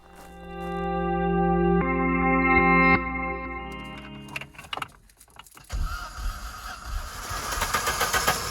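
An Opel Kadett GSI engine, standing unused for 12 years, cranks and catches with a rough, uneven roar close by, after a stretch of sustained electronic tones.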